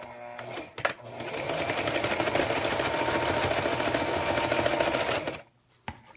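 Sewing machine stitching a zipper in a steady, loud, continuous run of rapid needle strokes for several seconds, with brief pauses at the start and a stop near the end.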